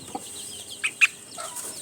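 A young native chick gives a few short, high clucks and peeps while it is held and given medicine by mouth in winter. The calls are close and sparse, separated by quiet gaps.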